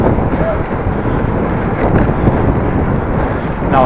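Steady wind roaring across the microphone during a ride on a bicycle in the Dutch countryside, a loud continuous buffeting rush with no distinct breaks.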